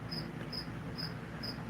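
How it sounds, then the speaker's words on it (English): A cricket chirps in steady, evenly spaced pulses, four shrill bursts about every half second, loud and close over a constant low background hum, with no voices. "thought that cricket was in the room with me."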